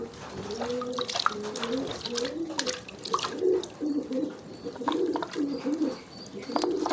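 Pigeons cooing in soft, repeated low rounded phrases, close by, with a faint watery background and scattered chirps from other birds.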